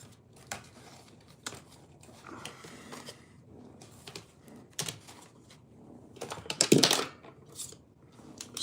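Computer keyboard typing in short irregular bursts of clicks, fairly close, with a louder clatter near the end and no talk over it.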